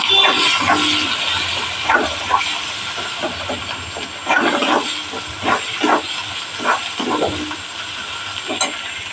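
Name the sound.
sautéing spices for pointed gourd curry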